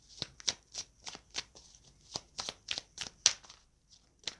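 Tarot cards being shuffled by hand, a close run of crisp, papery riffling bursts in an irregular rhythm with no talking.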